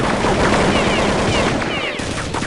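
Rapid automatic gunfire in a Counter-Strike match, dense bursts running continuously and loud with little pause, a voice briefly audible beneath the shooting.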